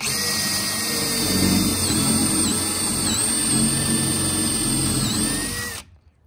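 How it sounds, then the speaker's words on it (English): A 1/2 inch power drill bit whines steadily as it bores through plywood and a 2x4, loud and close, then stops abruptly near the end. "With using your 1/2 inch drill, drill halfway through the plywood and the 2x4."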